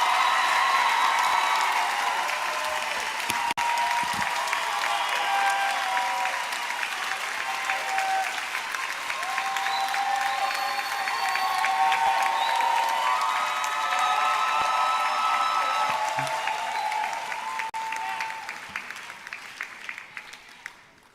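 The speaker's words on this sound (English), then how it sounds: "Please give them a lovely round of applause." Sustained applause from a large audience at a university graduation ceremony, loud and continuous for about twenty seconds before thinning out at the end.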